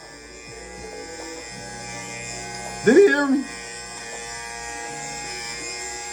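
Barber's electric hair clippers cutting a fade, running with the lever closed and going with the grain at the top, a steady close buzz throughout with a brief spoken voice over it.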